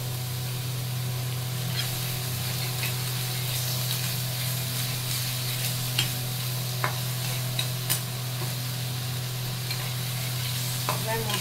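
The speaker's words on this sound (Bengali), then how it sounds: "মশলাটাকে কষাবো।" Garlic and ginger paste frying with spices in a pan over medium heat, a steady close sizzle with occasional scrapes and clicks of stirring, no talk.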